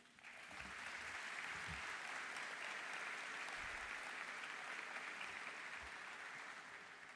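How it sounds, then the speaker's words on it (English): Steady, sustained applause from a large audience at a high school graduation ceremony, a dense wash of many hands clapping together that stays even and continuous throughout, heard from a distance with no one speaking. "I'd like to ask you to give them a round of applause, please"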